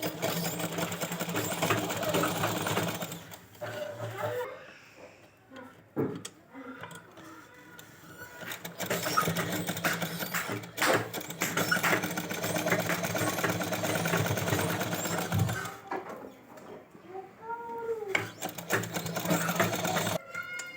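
A sewing machine stitches fabric laid over lace for a baby gown, running in long stretches of fast, ticking mechanical whir broken by a few short pauses, close and fairly quiet.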